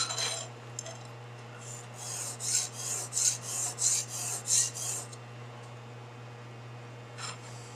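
A metal file worked over a Carter carburetor valve part to flatten it, rasping in a run of about eight even back-and-forth strokes, close and clear over a steady low hum, then a final short stroke.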